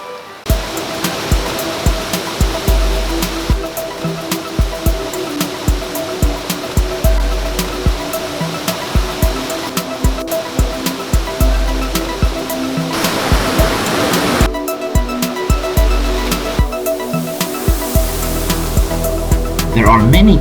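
Gardiner's Falls, a waterfall just outside Brisbane, gives a steady, loud roar of rushing water throughout, with repeated sharp knocks and rustles close by over the continuous wash.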